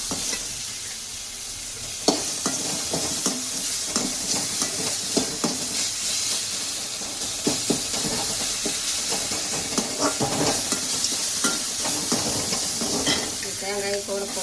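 Brinjal frying in hot oil for a kuzhambu with chana, a steady sizzle and hiss with repeated scraping stirs throughout, close and fairly loud.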